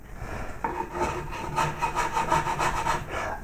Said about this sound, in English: to finish off these grooves, these flutes, you could use a riffler, like so